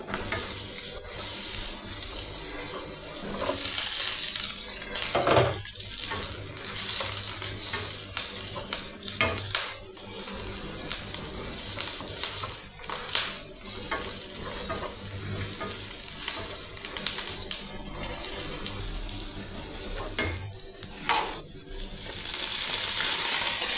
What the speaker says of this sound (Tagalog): magluto tayo niyo ng ginisang repolyo